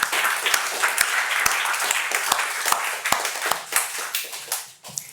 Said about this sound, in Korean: 이를 믿는다면 여러분 박수를 치시기 바랍니다.